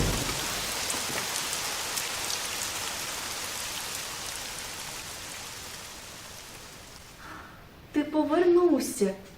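Steady rain sound effect in a children's stage play, a dense broadband hiss that fades slowly before a voice speaks over the end.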